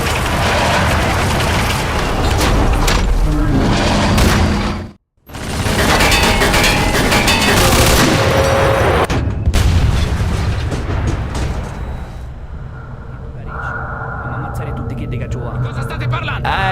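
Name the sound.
gunfire and artillery in Mafia II video game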